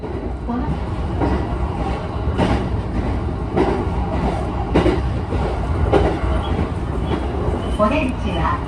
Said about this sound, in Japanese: この電車は日光線宇都宮行きワンマンカーです。